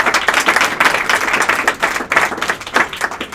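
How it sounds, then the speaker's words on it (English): Audience at an entrepreneurship speaker-series panel applauds, a steady, moderately loud round of clapping with uneven bursts, no talk over it. "How about a nice round of applause for our panel?"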